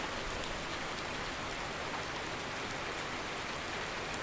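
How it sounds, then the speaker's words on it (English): Steady, dense rainfall pours down without pause in the farming game Farming Simulator 19, an even hiss filling the whole stretch with no voices. "the rain's causing havoc with the money"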